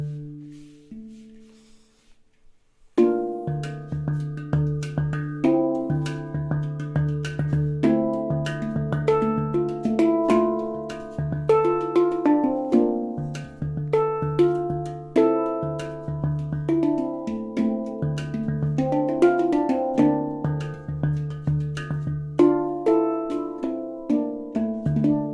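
A handpan rings out in a flowing run of struck notes with a sustained low tone under shimmering higher ones, continuous and moderately quiet after a few soft opening notes.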